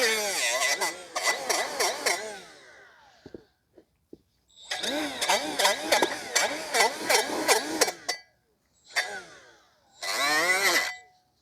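A die grinder cleans the outer edge of a rear brake drum on a 2014 Chevrolet Sonic 1.8. It whines loudly in repeated bursts of several seconds each, with short pauses between runs and some talking.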